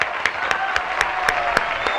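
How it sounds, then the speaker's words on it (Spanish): Studio audience applause for a guest on an Argentine talk show, a steady dense patter of clapping with a few sharper accents, fairly close and loud throughout. "Fanny Mandelbaum, el aplauso bien fuerte, Fanny."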